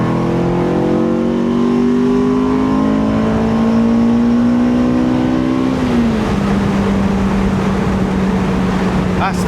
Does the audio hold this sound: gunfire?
no